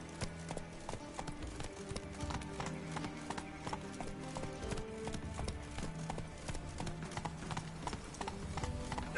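Hooves of the horse Roach clip-clop in a steady galloping rhythm through a Witcher game scene, close and continuous, with a quiet musical bed underneath.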